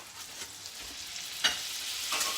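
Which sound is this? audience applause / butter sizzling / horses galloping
butter sizzling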